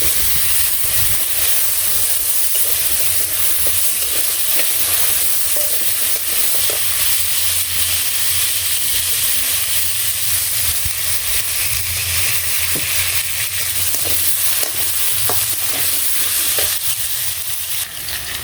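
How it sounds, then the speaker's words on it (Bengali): Vegetables frying in a village kitchen, a loud continuous hissing sizzle close by with occasional faint stirring clicks throughout. "ভালো গুনে ভেজে নিলাম।"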